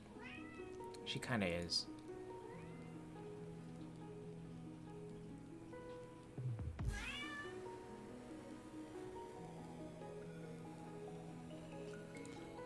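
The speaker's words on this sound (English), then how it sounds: "I'm gonna answer this yelling cat who thinks that she's more important than me." A domestic cat yowls loudly and insistently in two drawn-out, rising cries, close to the microphone, with a person speaking briefly and quiet background sound in between.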